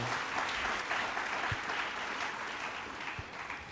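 Church congregation applauding during a service, steady sustained clapping from many hands filling the room, fairly distant and even throughout.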